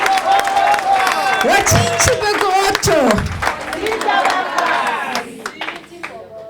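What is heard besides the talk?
audience applause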